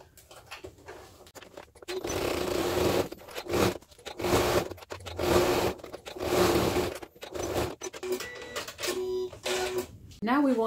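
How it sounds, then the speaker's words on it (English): A sewing machine stitches the second side of a fabric bag in several bursts of rapid mechanical whirring, each a second or two long, separated by short pauses, close and clear. "let's stitch our second side"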